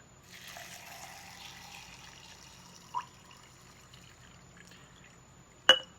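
Room-temperature filtered water pours into a sprouting jar holding seeds, a steady trickling splash for about two seconds, followed by two sharp clicks of glass handling, all close and fairly quiet with no talking.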